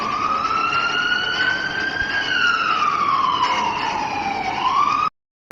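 A police siren wails loudly and close by, its pitch rising and falling in a continuous sweep before it cuts off abruptly near the end, with no voices over it.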